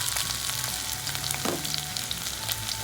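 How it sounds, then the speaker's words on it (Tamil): Onion, capsicum, carrot and cabbage sautéing in a pan for egg fried rice, a steady close sizzle with a brief stir near the middle and no talking. "முட்டைகோஸ் எல்லாத்தையும் நல்லா வதக்கிக்கலாம்"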